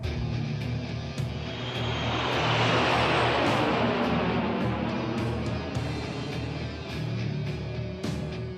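A steady, loud engine roar from an airship lifting off in the video game Tales of Xillia, a broad rumbling drone that swells slightly and holds for several seconds, with no voices over it.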